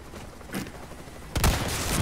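Gunshots from a weapon in Resident Evil 4 Remake: a faint distant shot, then a louder close blast followed by a rattle of echoing fire, with no voices.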